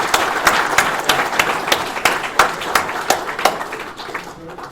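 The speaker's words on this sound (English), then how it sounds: "Can we get a round of applause for David and Debbie," Guests at a charity gala dinner in a hotel ballroom applaud: a modest round of distinct, fairly rhythmic claps with a softer patter beneath, steady at first and tapering off toward the end.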